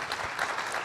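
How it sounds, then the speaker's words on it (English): Brief burst of audience clapping for parish president candidates at a forum, moderately loud and lasting under a second. "Please give Mr. Harrison and Mr. MANIOLA a round of applause."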